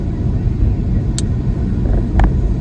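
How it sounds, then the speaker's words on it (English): A car driving along a road at steady speed, a continuous low road and engine rumble filling the interior with a couple of brief faint higher clicks. "I'm just driving home"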